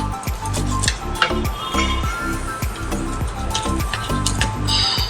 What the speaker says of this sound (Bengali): এবার আমি মাছটা কাটছি